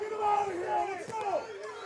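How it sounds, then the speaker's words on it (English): A crowd at a high school football playoff game roars and shouts loudly in a noisy stadium, with voices rising together over a couple of seconds. "The crowd getting a little feisty about those"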